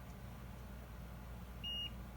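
A multimeter on continuity mode gives a single short, faint electronic beep near the end while a capacitor on a Nintendo Switch board is probed, over low background hum.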